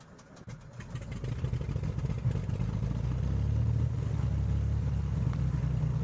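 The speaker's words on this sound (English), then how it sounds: "We have a good engine start." A single-engine aircraft engine in the Prepar3D v4.2 flight simulator cranks and catches, then settles into a steady low rumbling drone that builds over the first seconds and holds loud and continuous.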